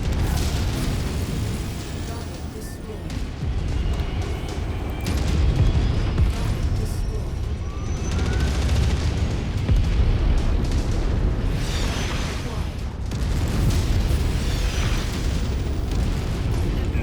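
Artillery shells pound continuously in MechWarrior 5 combat, with heavy, rumbling booms and scattered bursts layered over a constant low roar, loud and sustained throughout.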